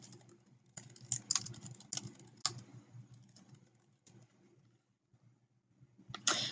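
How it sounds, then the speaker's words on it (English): Keys clatter on a computer keyboard in short irregular bursts of typing, close and fairly quiet, with brief pauses between runs and no talking. "and I'll type that in here"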